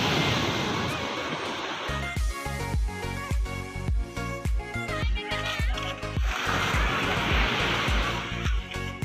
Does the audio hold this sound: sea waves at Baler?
yes